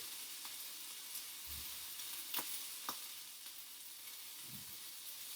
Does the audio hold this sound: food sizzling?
yes